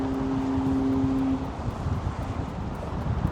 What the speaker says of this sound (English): The wind is insane.